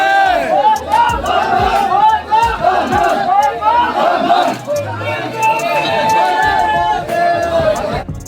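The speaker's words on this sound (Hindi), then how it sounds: "मैंने पिछले 5 साल की यात्रा में कभी भी भक्तों की ऐसी भीड़ नहीं देखी है।" A dense crowd of pilgrims at the Kedarnath temple on a Sawan Monday, with loud, continuous babble and shouting voices filling the whole stretch, close and unbroken.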